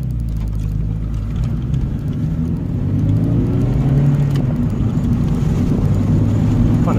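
A Volkswagen Golf Mk3.5 cabriolet driven with the top down after a wheel alignment gives a steady low engine and road drone with wind rumble, continuous and fairly loud throughout, no voices.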